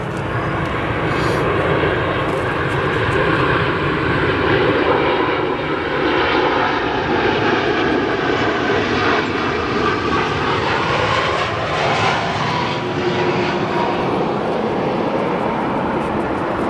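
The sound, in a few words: Boeing 787-10 aircraft arriving on runway 10 center at O'Hare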